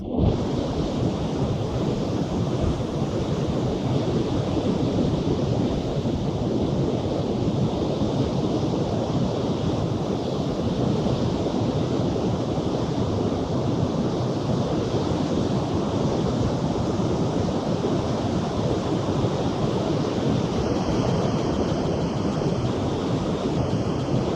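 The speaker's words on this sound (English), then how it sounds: "The waves here are really beautiful, rolling in gently" Ocean waves roll steadily onto a beach in Vietnam, a loud, continuous wash of surf with wind buffeting the microphone throughout.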